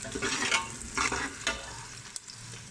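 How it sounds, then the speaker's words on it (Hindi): Onions sizzle in a pan for aloo matar with a steady frying hiss, punctuated by a few scraping stirs of a utensil, close and fairly quiet. "प्याज हमारा फ्राई हो रहा है"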